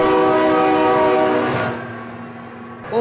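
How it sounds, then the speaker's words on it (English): A loud train horn from the driving game BeamNG.drive blares close by, holding a rich sustained chord before cutting off, with no talking during the blast. "Oh my God, train!"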